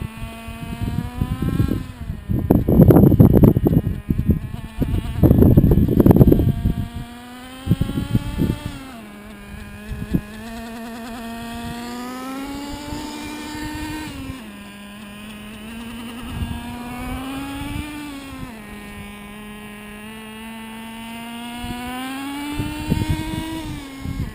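A Traxxas T-Maxx 2.5 nitro RC truck engine during break-in, a buzzy high-pitched whine that rises and falls with throttle, with two louder revving bursts early and a steadier idle later.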